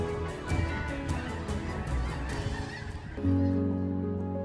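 A large flock of snow geese honks continuously, many overlapping calls forming a loud, busy chorus, with a few nearer honks standing out toward the end.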